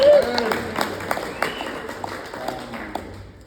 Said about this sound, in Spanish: Ronda de aplauso. ¡Bravo, Gael!